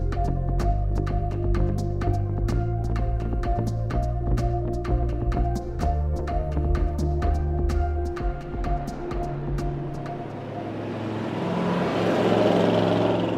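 Motorcycle engines running in city traffic, a steady loud mechanical drone with rising revs and clicking transients throughout, swelling into a broader rush toward the end.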